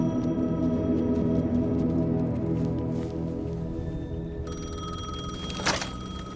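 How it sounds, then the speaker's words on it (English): A payphone rings in the video game Alan Wake 2, a repeated bell-like telephone ring over a dense, droning ambient backdrop, fairly loud and close, with a sharp clunk near the end. "The payphone was ringing."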